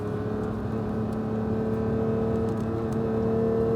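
Porsche GT3 RS engine at light throttle on the Issoire race circuit, a steady, even mid-low drone with a sustained tonal hum and no sharp revs, heard without talk.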